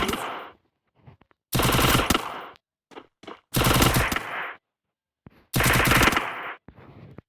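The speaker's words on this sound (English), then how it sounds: "Press the fire button to shoot when the crosshair changes color." Gunfire from a mobile shooter game comes in three loud, separate machine-gun bursts with a few single shots in the quiet gaps between them.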